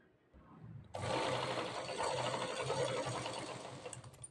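After a brief click, a sewing machine starts up and runs steadily while stitching piping onto a blouse, a close, continuous whirring hum that eases slightly toward the end.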